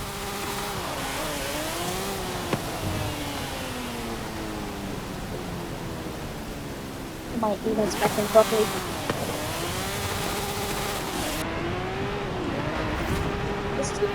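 A 1997 McLaren S1 GT race car in Forza Horizon 5 drones steadily, its engine pitch rising and falling through shifts, with a short burst of clattering noise midway and a brief spoken comment.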